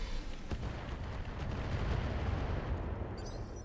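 Weapons fire from the RogueTech BattleTech mech game rumbles in a dense, continuous low-end barrage with a sharp crack near the start, steady and loud throughout with no talk.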